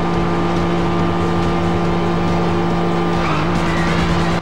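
Race car engine from the PS2 video game Rumble Racing roaring at steady high revs, loud and continuous, with a brief tire skid and pitch shift near the end before it cuts off.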